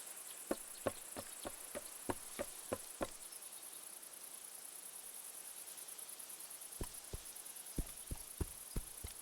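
Crickets chirp in a grassy outdoor setting in the video game A Juggler's Tale, a steady high insect trill running throughout beneath a series of soft evenly spaced ticks that pause and then resume, all fairly quiet.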